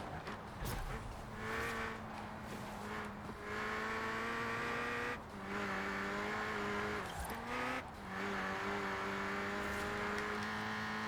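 A Ford Puma in Forza Horizon 4 revs and accelerates through its gears, turbo whine faint beneath a steady engine tone, with brief tire squeals and shifts breaking the drone; no voices.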